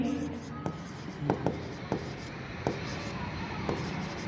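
A pen scratches across paper while writing a journal entry for a commerce accounting problem, light strokes with a few sharper taps, faint and close.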